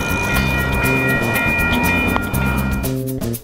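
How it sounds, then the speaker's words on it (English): A train rolls past a level crossing on Route 66 in Los Angeles, a loud continuous rumble heard from close by while waiting, with tonal horn-like or bell-like notes appearing near the end. "we'll stop for the train and then we'll go"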